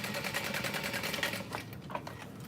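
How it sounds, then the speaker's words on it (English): A sewing machine runs a quarter-inch top stitch along a muslin test version of a diaper bag, a rapid, even needle chatter heard close up that slows and stutters toward the end, and no one speaks. "just gonna top stitch it about 1/4 inch."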